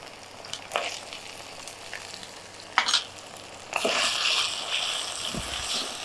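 Chopped tomatoes are added to a hot pan for paneer pickle, with a few stirring clatters before the sizzle swells into a steady, bright frying hiss.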